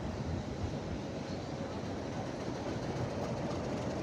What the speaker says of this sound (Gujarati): આ એક વધુ ટ્રેન